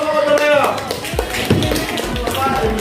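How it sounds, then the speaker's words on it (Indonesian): Scattered classroom applause for group Otomayo after their presentation during a coaching session, a loose patter of claps running steadily for a few seconds with voices chattering underneath. "Tepuk tangan untuk kelompok Otomayo."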